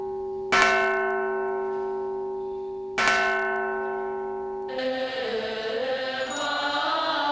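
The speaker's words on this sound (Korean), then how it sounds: "종소리와 함께 아침 공양이 시작된다." A temple bell at Fo Guang Shan monastery in Kaohsiung, Taiwan, rings twice for breakfast, each strike loud and ringing with a long fading tone, followed by a softer shimmering bell texture.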